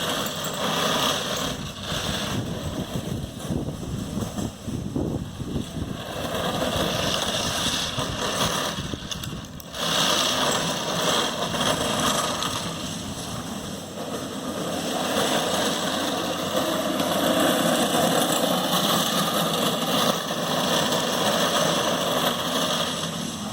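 Razor Drifter trike rolling on 3D-printed PETG wheels, a continuous loud rumbling grind with a whirring, engine-like drone that holds steady throughout, with no voices.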